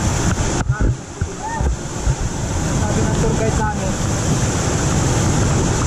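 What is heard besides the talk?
strong rushing water near Bagumbungan Cave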